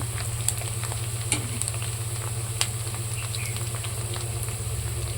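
Chopped onions fry in a pan for a fenugreek-leaf and moong dal curry, giving a steady close sizzling hiss with a few small crackles and pops throughout.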